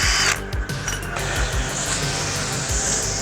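A power tool runs in short bursts while removing 12 mm bolts from a Miata transmission bell housing during a B2200 turbo engine build, with metallic clinks between pulls; close, loud and with no talking.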